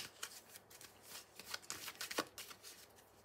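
Tarot de Marseille cards being shuffled close up, a quiet run of crisp, rapid riffling and flicking bursts with no talking.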